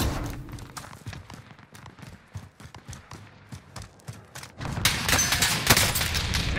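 Rapid bursts of gunfire from Call of Duty: Modern Warfare in a Plunder match with an M16, sharp cracks repeating steadily and growing louder and denser toward the end.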